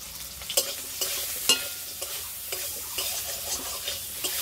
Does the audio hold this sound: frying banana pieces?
yes